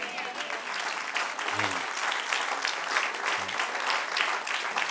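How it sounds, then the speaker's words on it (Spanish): A church congregation applauds in a steady, dense burst of clapping, with a brief low thump of voices or instruments underneath. "Denle un aplauso al que reina."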